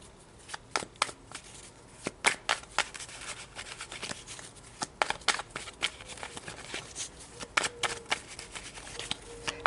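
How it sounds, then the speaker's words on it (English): Tarot cards are shuffled by hand in a steady run of soft riffling and sharp papery snaps, close and fairly quiet, with no voices. "So let's pull some tarot for you guys."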